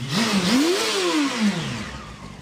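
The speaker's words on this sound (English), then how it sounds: "I got Fred turning it over for me now so I can see what's going on in the engine bay." A Ford ST170 engine fitted in a Mk1 Escort is cranked over and tries to fire, giving a short, close engine sound that rises in pitch and then sags away over a couple of seconds.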